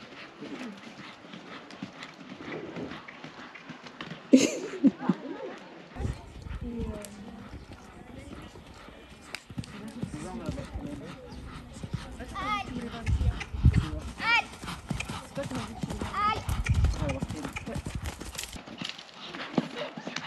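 Pony hooves trotting and cantering across a show jumping course at a summer competition, a steady near rhythm of hoofbeats under a commentator's voice and crowd noise.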